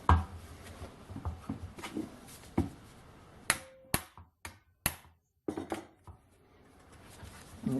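A hammer repeatedly strikes a manual impact driver to break loose a very tight screw, giving about eight sharp metallic knocks, close and loud, with quiet shuffling handling noise between blows and no talking.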